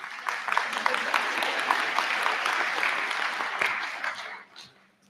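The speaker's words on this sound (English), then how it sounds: "You weren't supposed to clap there" A commencement audience claps steadily at a liberal arts graduation ceremony, a sustained wash of hands that fades out near the end.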